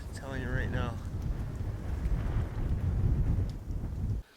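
Cold, rainy wind buffets the microphone at the Elvis Fire Tower in the Northern Ontario backcountry, a continuous low rumbling roar that drops out abruptly at the end, with a voice briefly audible early on.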